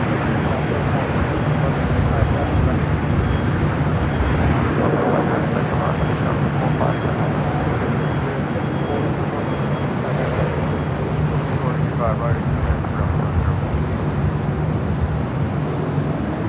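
A Qatar Airways Airbus A340-300 airliner roars steadily at LAX, a loud broadband jet rumble sustained throughout with no clear build or fade, and a voice faintly underneath.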